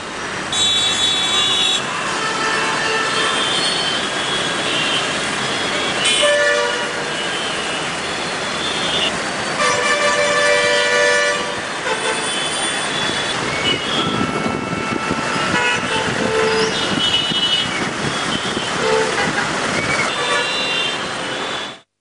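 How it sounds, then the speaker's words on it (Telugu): Heavy traffic jam on a Hyderabad road from Afzal Gunj to the High Court during an advocates' protest, with repeated car and bike horns honking over a dense engine roar and wind buffeting, continuous and loud for twenty seconds. "వర్షం తగ్గగానే ఆఫీసులకు వెళ్లేవారు రోడ్లపైకి రావడంతో భారీగా ట్రాఫిక్ జామ్ ఏర్పడింది."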